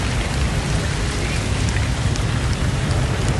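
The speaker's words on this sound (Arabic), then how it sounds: "لحد الآن تمطر مع برد لحد الآن" Heavy rain mixed with hail pours down on Ha'il in Saudi Arabia during a winter storm, a loud, unbroken, close hiss and drumming of falling water and ice with no talk.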